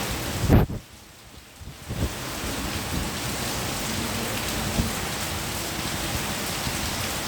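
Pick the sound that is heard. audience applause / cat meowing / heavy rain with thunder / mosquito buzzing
heavy rain with thunder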